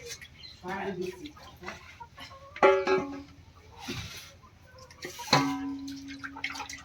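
Free-range village chickens cluck and squawk in short, close bursts, with one drawn-out call near the end and some quiet background noise between the calls.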